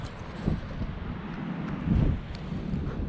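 Wind gusting over a beach sand dune and buffeting the microphone in low, rumbling bursts, with two strong gusts standing out above a continuous roar, close and loud, with no talking.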